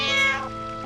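A cat meows once in Final Fantasy IX, a short, bright, harmonic cry that swells and then tails off, sitting alone and clear in the game audio.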